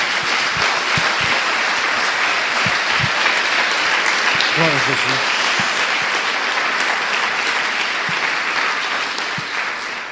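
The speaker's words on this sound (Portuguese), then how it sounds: "Dê uma salva de palmas ao Senhor." Steady, loud applause from a church congregation fills the room throughout, with a preacher's voice speaking briefly over the clapping.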